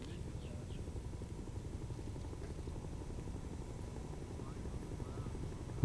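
Space Shuttle Endeavour rides atop its carrier aircraft in a low flyover at Kennedy Space Center, a steady rumbling, pulsing engine drone that stays even and sustained throughout.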